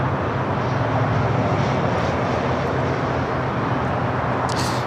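A Boeing 787-9 Dreamliner jet airliner taking off at LAX, a loud, sustained engine roar that stays dense and even, with no speech.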